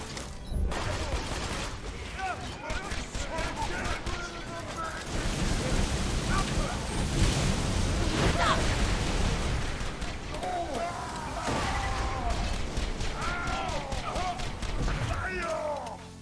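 Grenade blasts and rapid gunfire from blaster nomads tear through a Borderlands 2 firefight, a dense, loud barrage of bursts and booms with game voices shouting intermittently over the din.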